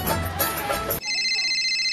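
A mobile phone ringtone rings, a steady electronic tone that starts abruptly after a stretch of loud, busy noise and carries on alone, clear and close.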